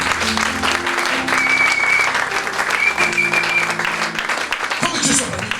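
A church congregation at a wedding sermon breaks into loud, sustained clapping that fills the space, with a voice speaking over it and some music underneath.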